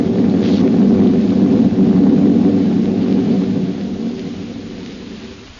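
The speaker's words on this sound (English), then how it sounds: "Through the thunder crash I heard her." A loud rolling thunder crash from an old-time radio drama sound effect, a deep sustained rumble with rain-like hiss that slowly fades away, with no voices over it.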